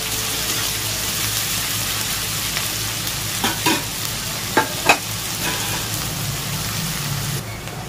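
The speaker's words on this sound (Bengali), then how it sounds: "পেঁয়াজটা ভাজা ভাজা হয়ে আসলে অল্প" Chopped onions fry in hot oil in a pan with a steady, close sizzle, broken by a few brief knocks of stirring, with no talk.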